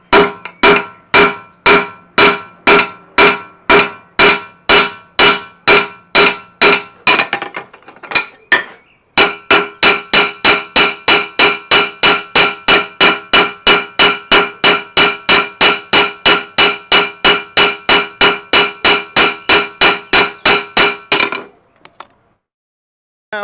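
Steady hammer blows on forged steel over an anvil while shaping a Mjolnir pendant, loud and close, a regular fast rhythm with a brief pause near the middle before a longer run of even strikes.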